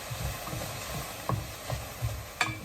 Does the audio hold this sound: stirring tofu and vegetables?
yes